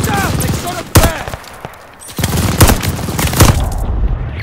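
Bursts of gunfire from a Call of Duty: Vanguard campaign firefight, with loud sharp shots around the one-, two-and-a-half- and three-and-a-half-second marks over steady battle noise.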